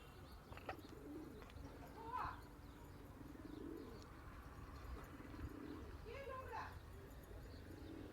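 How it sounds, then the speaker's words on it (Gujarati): Pigeons coo softly and intermittently, with a few low rolling calls and light chirps, faint against a quiet background and murmured human sounds. "જો બધા કબૂતર આવી ગયા."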